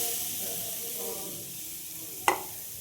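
Freshly grated coconut going into a hot wok (kadai) for making pitha, giving a soft, steady sizzle and hiss close by, with a sharp brief scrape or clatter near the end.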